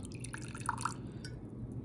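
Ozonated saline drips and trickles from a beaker into a saline bag, a few soft close drip sounds and brief splashes, quiet and alone.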